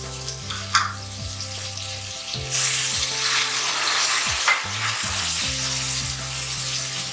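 Meat frying in a pot with salt for shalgam gosht, a steady close sizzle with stirring and scraping throughout, louder toward the middle.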